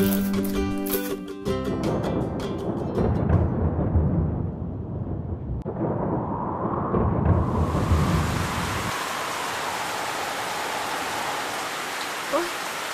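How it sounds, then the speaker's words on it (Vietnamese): Heavy rain in a cartoon, a dense steady hiss of pouring rain with a low rumble of thunder, starting after a brief musical sting and continuing loud and alone. "Trời mưa to quá"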